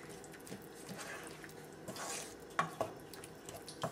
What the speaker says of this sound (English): So adding our dal, we'll mix it in